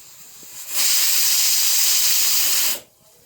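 Steam from a pot set to boil hisses in a loud, steady burst for about two seconds, starting and cutting off abruptly, with quiet room sound before and after.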